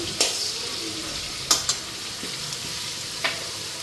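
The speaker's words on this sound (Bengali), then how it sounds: "এদিকে আলু পেঁয়াজ কেটা ভাজা বসাই দিছি" Potatoes and onions fry steadily in a pan for chow mein, a continuous close sizzle with a few sharp clinks of utensil against the pan and no talk.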